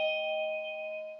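Wireless doorbell chime rings once right after the doorbell button is pressed, a clear sustained bell tone that rings and slowly fades, alone without talking.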